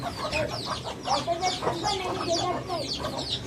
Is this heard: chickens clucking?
yes